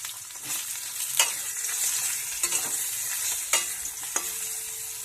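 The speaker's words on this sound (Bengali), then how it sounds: "বেগুনগুলো ভেজে নেবো" Eggplant pieces fry in hot oil in a wok with a steady, bright sizzle throughout. Occasional sharper pops and stirring scrapes break through the sizzle.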